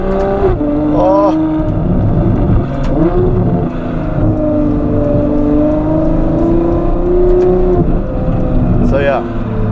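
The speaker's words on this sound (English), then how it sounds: "Man, that V12 up front is so on fire. It's honestly such a freaking sweet motor." A Novitec Ferrari F12 N-Largo's front V12 revs and drones loudly nearby, with sharp rising pulls near the start and again at the end, and a person speaks over the engine.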